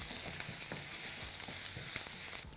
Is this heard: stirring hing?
yes